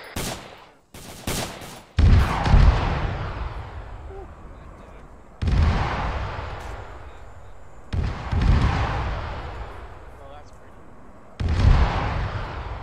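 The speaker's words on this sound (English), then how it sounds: "we're putting a repeat on the targets out to the northeast with artillery" Artillery in ArmA 3 Vietnam MACV-SOG pounds distant targets in heavy, booming impacts spaced a few seconds apart, each rumbling and fading before the next, after a few sharp cracks at the start.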